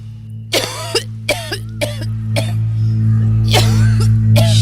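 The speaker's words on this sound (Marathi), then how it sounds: "सुकी खोकली ती" A person gives a series of dry coughs, about six or seven sharp separate bursts spaced irregularly, close and fairly loud over a steady low background hum.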